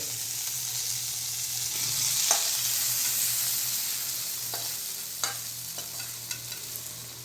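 Cluster beans fry with a little salt in a pan, giving a steady close sizzle broken by a few sharp scraping stirs of a utensil.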